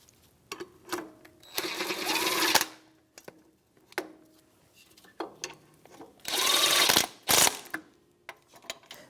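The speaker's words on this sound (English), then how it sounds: "I'm just going to snug them up with a 17mm socket." Ratchet wrench with a 17mm socket snugging the bracket-to-differential mounting bolts on a 2010-2023 Toyota 4Runner during rear brake work, heard as several bursts of rapid close clicking separated by brief pauses and lighter taps.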